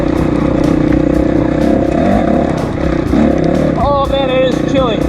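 Honda CRF450 dirt bike converted to a snowbike revs its engine in the cold, loud and close, with shifting pitch sweeps near the end and someone talking over it.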